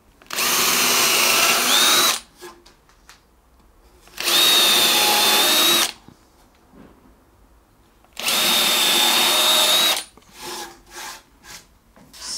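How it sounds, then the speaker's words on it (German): Power drill boring holes into wood while building a workbench: three loud, close bursts of about two seconds each, separated by quiet pauses with a few small knocks of handling, and no talking. "So, die Bohrungen sind jetzt auch drin."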